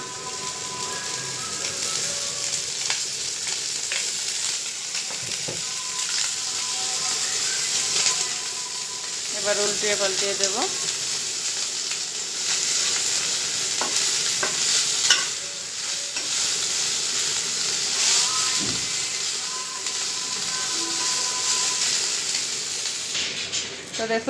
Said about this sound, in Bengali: মাছগুলো ভালো করে ভেজে নেওয়ার জন্য তো আর একটু তেল দিয়ে দিচ্ছি সয়াবিন তেল